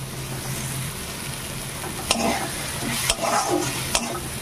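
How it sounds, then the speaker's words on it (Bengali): Shrimp fry in a pan and are stirred, a low constant sizzle broken by several distinct scraping strokes of the spatula against the pan, each sharp and close. "দেখুন চিংড়ি মাছগুলো খুব সুন্দর ভাজা হয়ে গেছে, এগুলো খুব বেশিক্ষণ ভাজতে হয় না"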